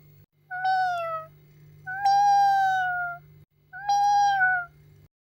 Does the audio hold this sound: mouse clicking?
no